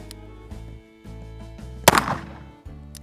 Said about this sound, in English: Let's go ahead and shoot this steel right here.